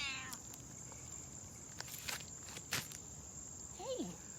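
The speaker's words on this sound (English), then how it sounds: "My cat Xena wants to help me out." A pet cat indoors lets out a short, faint meow near the end, over a quiet room hum with faint chirping in the background.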